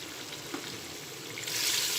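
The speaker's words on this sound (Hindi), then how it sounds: "पानी हम इतना डालेंगे कि गोश्त हमारा अच्छी तरह से गल जाए।" Water is poured into mutton nihari masala in a cooker, where the frying sizzle swells into a louder rushing hiss near the end, with no talk.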